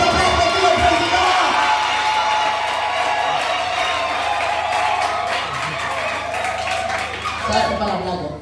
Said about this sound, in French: Est-ce qu'on peut applaudir le président?